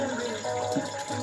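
Water runs briefly and steadily into a black cooking pot, a close, short pour with no talk over it.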